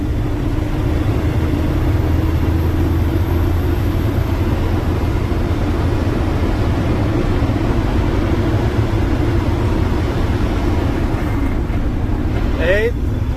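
A 2009 International Workstar 7700 truck with an 8LL transmission, governed at 65, drones steadily as it runs up through its higher gears, a loud continuous low engine roar under road noise.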